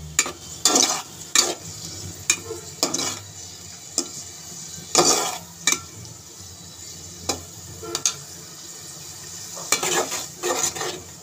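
Ingredients being fried in a pan while fish cooks, with repeated sharp scraping strokes of a spatula over a steady sizzle, the close stirring clatter coming in irregular bursts.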